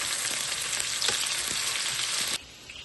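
Hamburger steak patties browning in a pan give off a dense, steady sizzle throughout, cutting off abruptly near the end.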